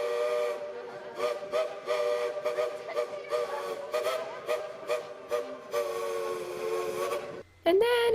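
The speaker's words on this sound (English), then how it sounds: "the train decided to scare them off with the horn" A steam train whistle at Dollywood during the Christmas season blows a long, loud, chord-like blast with brief wavering breaks, ringing near and steady for several seconds before cutting off abruptly.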